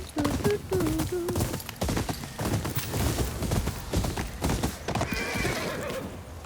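A horse in the video game Ghost of Yōtei whinnies in rising and falling calls over continuous clip-clopping hooves, with dense game noise and a player's voice talking throughout.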